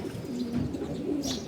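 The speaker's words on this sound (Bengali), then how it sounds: "এই যে একটা কবুতর এইমাত্র আসলো, নামতেছে" A racing pigeon returns from a 44 km race and lands at the loft, with soft cooing from nearby pigeons carrying steadily and a brief higher flutter near the end; no talk.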